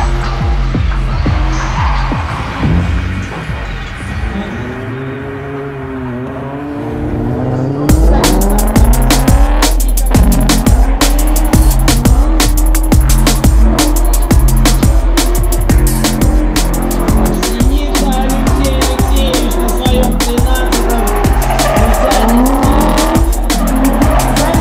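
Drift cars squeal their tires during a qualifying run at a drift event, long loud screeches with engines revving and bouncing off the limiter, rising sharply partway through and staying intense and close.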